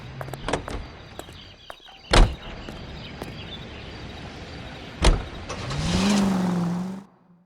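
A car in the video game L.A. Noire, a steady engine drone with a couple of loud thumps like doors shutting, then a rising rev before the sound cuts out.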